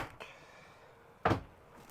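The shower cubicle door in a 2024 Swift Voyager 594 caravan is pushed shut, giving a soft knock followed by a firmer, close thud against an otherwise quiet room.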